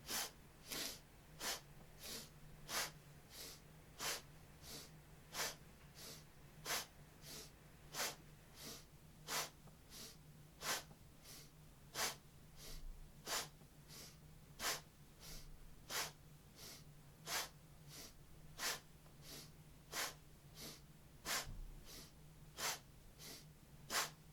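Forceful rhythmic breathing during a seated yoga spinal twist for a navel adjustment kriya: sharp, loud nasal breaths repeat evenly about once per second throughout, close and alone over a low steady hum.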